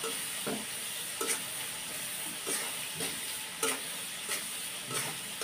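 Cumin powder fries in a pan with onions under a steady sizzling hiss, broken by scraping stirs that come roughly once a second, with no talking.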